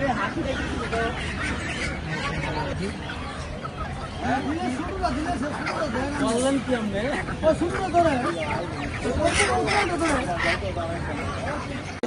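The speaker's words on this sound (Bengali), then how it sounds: "অনেক মুরগি আছে।" Poultry cluck and squawk amid a busy bird market, a dense mix of bird calls and crowd chatter continuing throughout with people talking nearby.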